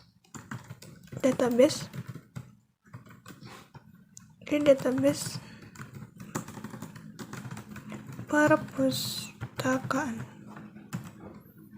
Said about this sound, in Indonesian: Di sini kita bisa ketikkan create